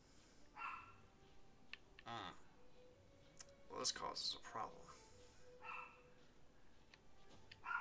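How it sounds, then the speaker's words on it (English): A dog barking in the video game Genshin Impact, a few short scattered barks and yelps spread across the clip, fairly faint beneath someone talking. "You really would think she would stop barking at some point"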